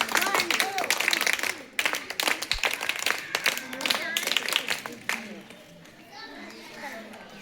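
Schoolchildren clapping together in a classroom, a burst of sharp, fairly rhythmic claps up close with children's chatter around them, fading into scattered talk near the end.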